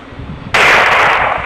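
A shotgun blast fired at Granny in the Granny horror video game: a single sudden, loud burst of broad noise that holds for about half a second, then fades, after a quiet lead-in.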